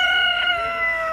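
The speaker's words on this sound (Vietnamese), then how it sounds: "Gà quá trời luôn." A rooster at a zoo in France crows close by, one drawn-out, tonal cock-a-doodle-doo that fills the moment alone and loud.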